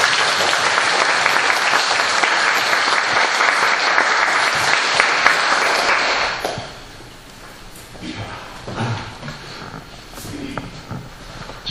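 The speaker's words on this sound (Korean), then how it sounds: "우리 환영의 박수 좀 보내." Church congregation applauding to welcome first-time attendees at an evening lecture, a loud dense burst of clapping lasting about six seconds before fading into quieter room sounds.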